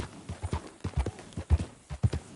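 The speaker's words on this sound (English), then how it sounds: "Fine horse you got there." Horse hooves clip-clopping in the video game Red Dead Redemption 2, a steady, close walking rhythm of firm, low thuds that continues throughout without any voices.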